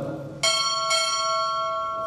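At a Navy chief petty officer pinning ceremony, a ship's bell sounds two sharp strokes in quick succession after a brief murmur, each ring bright and sustained, fading gradually.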